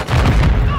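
A grenade blast in a tactical shooter game, a loud dense boom with rumbling low end lasting under a second, close and filling the mix.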